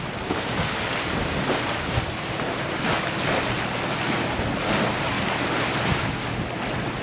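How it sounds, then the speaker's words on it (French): Churning sea waves surge and hiss at the entrance to a gulf on the French coast near Le Crouesty, heard from a sailboat with steady wind over a continuous broad wash of water. "Ça bouillonne à l'entrée du golfe."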